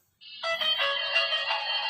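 A cellphone ringtone starts abruptly and plays a steady, bright electronic melody with repeating notes, fairly loud and close, with no talking over it.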